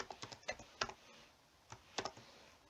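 Computer keyboard typing while writing code, a quick irregular burst of close, crisp key clicks in two clusters with a short pause between, no voices.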